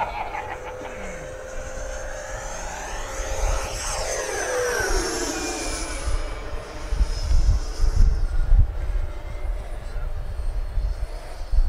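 FMS Viper 90mm RC model jet roaring past at about half throttle, a steady turbine whine that sweeps down in pitch as it passes, then a continuing engine rumble with wind noise.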